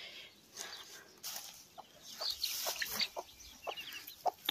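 A hen from a home poultry flock clucks in short, close bursts, several soft calls spread over a few seconds against a steady background hiss.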